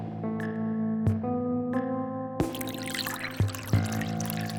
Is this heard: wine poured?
yes